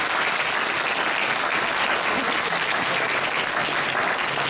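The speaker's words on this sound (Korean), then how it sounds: "멋진 토론 펼쳐주신 양 팀에게 다시 한번 큰 박수 부탁드립니다." Loud, sustained applause from an audience for two high school debate teams at the end of a final, dense and even throughout.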